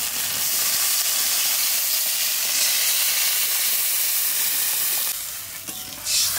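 Water poured into a hot pan for a mustard-paste rui fish curry sets off a loud, continuous sizzle and steamy hiss that eases briefly near the end.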